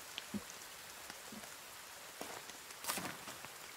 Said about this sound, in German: den Regen, der hier in unsere Behälter fällt